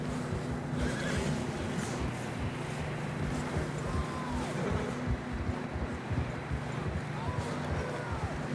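Horses whinny a couple of times over a dense bed of hoofbeats and rumbling movement, with faint voices mixed in, in the video game Red Dead Redemption 2.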